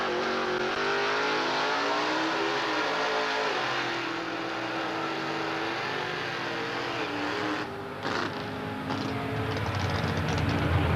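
Two 1961 Corvette junior stock cars drag race at Maple Grove, engines roaring loud and sustained as they accelerate through the gears, a brief dip and shift near the end before the roar builds again.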